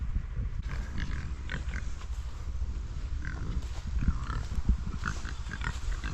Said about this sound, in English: Look at that pig pile.